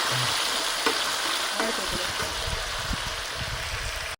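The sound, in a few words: tomatoes added to fried onions, sizzling in pan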